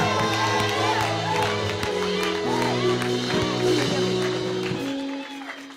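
A church congregation cheers and claps during a worship service, a busy crowd roar with shouts and scattered applause layered over sustained instrumental tones and a voice, fading toward the end.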